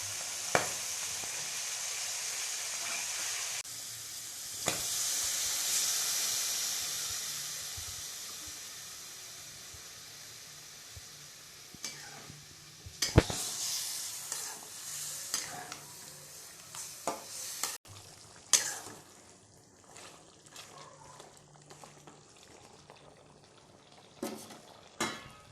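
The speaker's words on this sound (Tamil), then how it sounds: "தண்ணி ஊற்றி வேக வச்சுக்கோங்க." Chicken liver and masala simmering with water in a pan while being stirred: steady hiss and sizzle early on, then scattered scraping and clinking of a spoon against the pan, fairly close.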